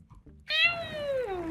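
A single cat meows inside the Minecraft video game, a clear, close, drawn-out cry with a falling pitch after a brief quiet moment.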